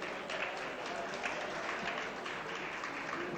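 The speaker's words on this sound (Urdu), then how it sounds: "آپ سب کی زوردار تالیوں میں" An audience at a Benazir Hari Card launching ceremony claps together, a soft, distant and even wash of applause that holds steady for a few seconds without any voices.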